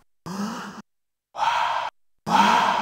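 Three separate panting breaths, the noise a person makes after running, used as a sample in a Squid Game themed beat; each exhale lasts about half a second with even gaps and sounds close and fairly loud, with no other sound.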